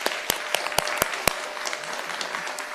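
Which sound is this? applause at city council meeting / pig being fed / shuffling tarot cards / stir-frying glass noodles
applause at city council meeting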